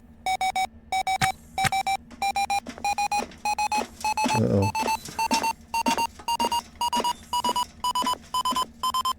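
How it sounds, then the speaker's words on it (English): A proximity alarm aboard a spaceship in the video game Ostranauts beeps in rapid, evenly spaced high-pitched bursts. The beeping repeats loudly throughout, and one brief spoken exclamation cuts in midway. "There's the prox alarm."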